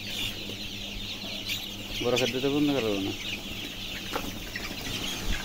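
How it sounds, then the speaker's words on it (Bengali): Village-reared chickens on a farm cluck and squawk in alarm, with a loud agitated burst in the middle of the stretch, while someone talks nearby over background hum. "মুরগিগুলো বেশি ভয় পায় যার কারণে সমস্যা।"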